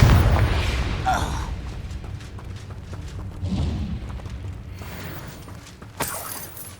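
The Confringo blasting spell explodes in the video game Hogwarts Legacy, a heavy boom with shattering debris at the start and more crackling bursts later, under faint game sounds.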